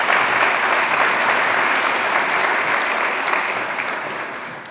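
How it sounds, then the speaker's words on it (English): An audience at a petroleum industry summit applauds, dense steady clapping from a full room that stays loud for several seconds before slowly tapering off. "Please put your hands together for the oil industry."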